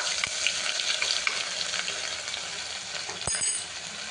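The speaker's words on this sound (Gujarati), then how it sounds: "એ લવિંગને એડ કરીશું અને વઘારને બરાબર હલાવી દેવાનો છે" Cloves sizzle in hot oil as a tempering for veg pulao, a loud continuous frying hiss with occasional spoon clinks as it is stirred.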